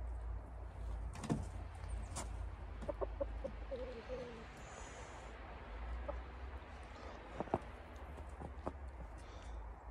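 Chickens clucking softly in the background over a low rumble in a snowy setting, with scattered knocks and thumps nearby.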